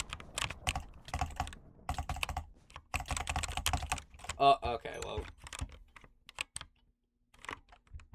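Rapid, close clatter of a responsive computer keyboard being typed on in bursts with brief pauses, while a person speaks briefly partway through.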